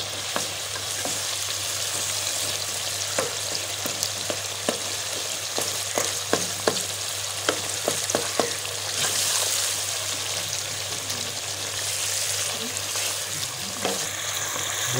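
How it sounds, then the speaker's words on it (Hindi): Tomatoes mashed into a frying karahi for a Peshawar charsi karahi, a steady broad sizzle with a low hum beneath and scattered clacks of a utensil pressing and stirring, close and continuous with no talk. "टमाटर जो है इसके मैश कर दें।"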